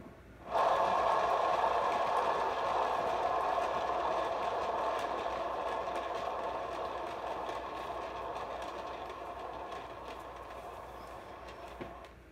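A spin art machine whirs as it spins a painted triangle canvas, a steady mechanical hum that starts abruptly and fades slowly over several seconds, with no voices.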